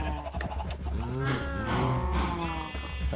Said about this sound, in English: I need many cows.